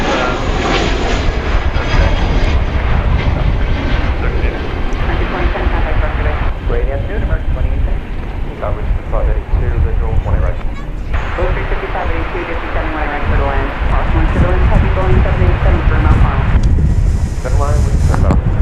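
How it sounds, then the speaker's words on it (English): American Airlines Airbus A321 arriving at DFW Airport from Boise, Idaho, a loud sustained jet engine roar with wind buffeting on the microphone, heard under ongoing talk. "That was American 1378 arriving from Boise, Idaho, an Airbus A321."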